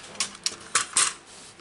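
A trimmer or cutter slices through a piece of white card for a stamped tulip card, heard as four sharp, close clicks and snips spread over under two seconds, with no voices.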